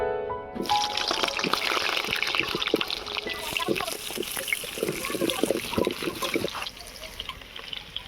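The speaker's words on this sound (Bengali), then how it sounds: "কড়া গরম হয়ে গিয়েছে, এবারে দিয়ে দেব সরিষার তেল। আলুগুলো এবারে ভেজে নেব।" Potatoes frying in hot mustard oil in a heated karai, a steady, close, crackling sizzle that holds at an even level throughout.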